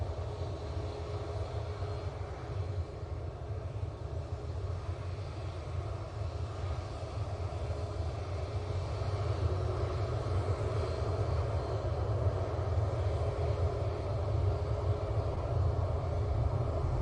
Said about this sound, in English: Coming in from Dusseldorf using their A320 CEO.